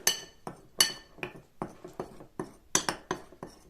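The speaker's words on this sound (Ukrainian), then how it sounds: "Вимішуємо дуже добре, щоб у нас, друзі, вийшла ось така майже однородна маса." Spoon stirring a fishing bait mixture in a bowl, a series of close, bright clinks and scrapes in an uneven rhythm, about ten distinct strikes.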